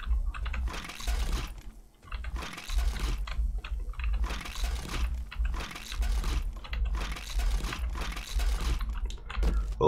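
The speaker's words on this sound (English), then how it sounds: "Sound of the keyboard and such isn't that loud." Bursts of computer keyboard typing during a PC session of 7 Days to Die, steady clacking in several runs separated by brief pauses, close and fairly loud, with no talking.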